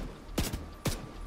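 Two sharp pistol shots in The Division 2, spaced about half a second apart, each a punchy crack with a short low thump, over quiet game ambience.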